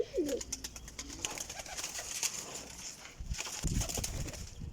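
Pigeons coo softly nearby, with a low throaty call at the start, rustling and a few flutters of wings in between.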